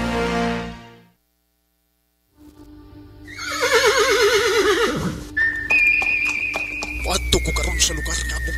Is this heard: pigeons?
no